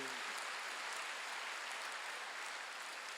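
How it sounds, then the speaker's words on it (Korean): A church congregation at a Sunday worship service bursting into applause, a dense steady clapping that continues for a few seconds, somewhat distant and moderately quiet. "박수 하세요."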